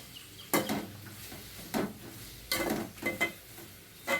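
A spatula stirs mango pachadi ingredients in a pan in short scraping bursts, close and fairly loud, with quiet gaps between strokes and no talk.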